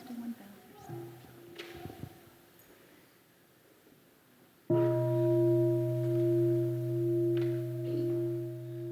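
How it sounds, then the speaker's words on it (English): A meditation bell is struck once at a family retreat at Deer Park. It rings out clear and loud and sustains with a long, slowly fading hum, after quiet background talk and a few faint knocks. "Listen to the one bell first."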